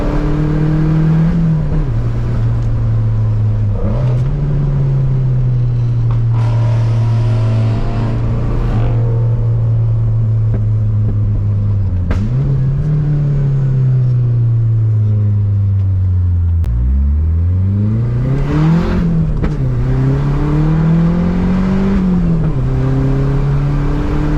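A car engine with an SN95 5.0L throttle body fitted on an SVO revs hard and climbs in pitch, dropping briefly at each gear change before pulling up again, loud and close throughout.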